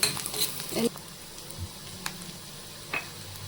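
Onions frying lightly in ghee, a soft, quiet sizzle with a few faint stirring scrapes near the start and an occasional small tap.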